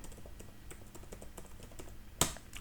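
Computer keyboard typing a Laravel PHP artisan make controller command, a quiet steady patter of light key clicks, ending in one sharper louder key strike near the end.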